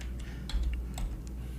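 Keys on a computer keyboard are typed in a short burst of light clicks, several quick taps close together over a low steady room hum.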